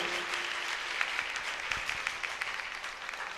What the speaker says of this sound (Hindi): माता हंसो देवी जी के लिए ताली बजा करके स्वागत करें